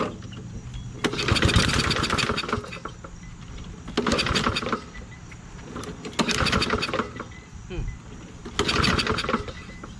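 A Toro Recycler self-propelled lawn mower with a Kohler XT675 engine runs after a carburetor cleaning. Its engine drones nearby and surges rhythmically, rising and falling in loud bursts every couple of seconds as if hunting, with faint talk underneath.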